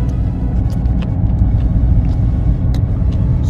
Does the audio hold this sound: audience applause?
no